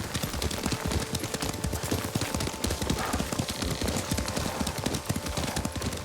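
Horse hooves clip-clopping in a steady, dense rhythm as a rider travels on horseback in the Ghost of Tsushima video game, loud and continuous throughout with no talk over them.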